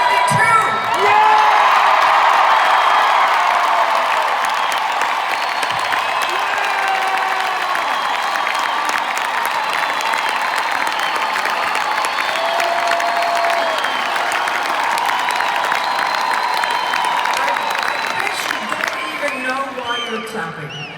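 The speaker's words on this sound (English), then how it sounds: "Clapping." A large arena crowd at a concert on the Here We Go Again Tour in Columbus, Ohio, roars with sustained cheering, whoops and clapping, loud and dense throughout, easing slightly near the end.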